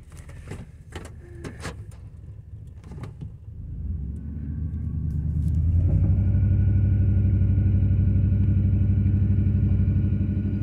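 Car engine with a suspected fuel-related fault, shaking under load while driving. Some clicks and rattles come first, then a deep, loud rumbling drone builds and holds steady to the end.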